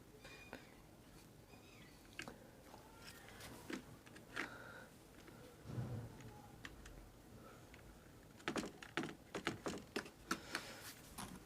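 A password is typed on a keyboard in scattered key taps, faint and close, building into a quicker cluster of keystrokes near the end in an otherwise quiet room.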